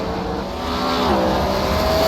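Late model race cars roar steadily around the Five Flags track, engines droning loud and continuous with a rising whine as one passes close.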